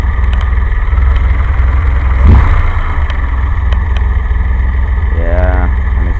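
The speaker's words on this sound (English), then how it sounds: "This is a pretty good tune on the carburetor at idle. It's idling about maybe 700 RPM." A DeLorean engine converted to a carburetor idles at roughly 700 RPM, a loud, steady low rumble with even pulsing that carries throughout, with a brief mechanical clunk partway through.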